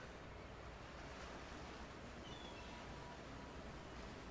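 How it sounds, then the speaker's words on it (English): Ocean waves wash onto a beach in the video game Hooked on You, a soft, constant rushing surf with no distinct breaks, faint and steady throughout. "As the water recedes back into the ocean"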